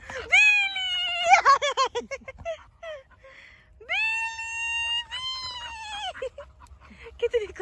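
A happy cat gives several long, wavering, high-pitched cries, loud and close, separated by short pauses.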